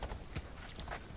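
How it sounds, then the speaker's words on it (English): Horse hooves clip-clop in the video game Assassin's Creed Odyssey, a quiet, steady series of soft hoofbeats over a low game ambience. "Getting a nice horse."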